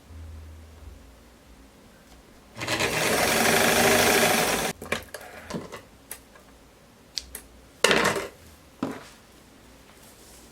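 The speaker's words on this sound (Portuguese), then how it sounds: "Então eu venho e dobro uma vez, 2 vezes. E costuro igual fiz no decote das costas." Sewing machine stitching a folded linen hem on a jumpsuit, one steady two-second run up close, then short bursts of stitching and handling noises in a quiet room.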